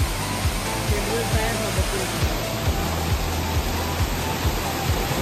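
Steady, loud rush of a jungle waterfall in Andarban fills the whole span, with a regular soft thumping pulse running beneath the roar.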